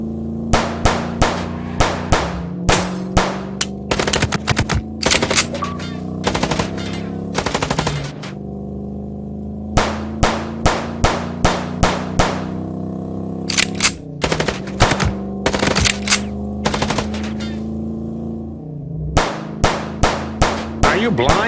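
Bursts of rapid automatic gunfire ring out during a car chase in the video game Chicken Police, loud metallic volleys in repeated clusters over a droning engine and background music, with short pauses between bursts.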